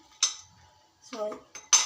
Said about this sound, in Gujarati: હવે ઢાંકણ બંધ કરી દઈશું।